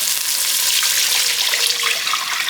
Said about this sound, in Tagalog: So, lagay na natin yung tubig.